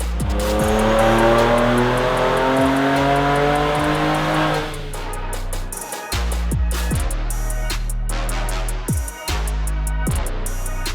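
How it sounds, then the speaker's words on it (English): Ford Ranger Raptor with a twin-turbo V6 running on a dyno, a loud sustained engine rev climbing in pitch, then cutting back into repeated throttle blips and gear-change pauses, close and alone. "today we're going to run it up in two-wheel drive, four-wheel drive, and even on the hub dyno to see what power this thing really makes"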